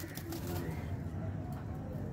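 Soft, low pigeon cooing murmurs faintly through a brief, quiet stretch with a dull background hum.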